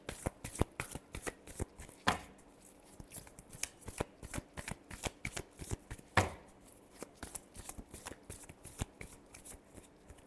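Tarot cards shuffled by hand, a rapid run of crisp flicks and riffles with a few louder snaps, close and quiet, with no talk.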